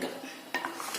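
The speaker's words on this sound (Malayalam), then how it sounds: "ഇനി നമുക്ക് നന്നായിട്ടൊന്ന് മിക്സ് ചെയ്തെടുക്കാം." A utensil clinks and scrapes against a pot as melted jaggery is mixed into jackfruit payasam. A few sharp knocks sound near the middle of a short, fairly quiet moment.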